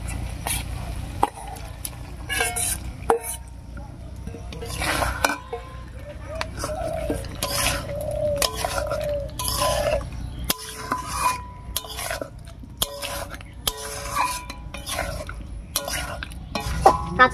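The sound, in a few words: adding milk-soaked raw banana to cooking pot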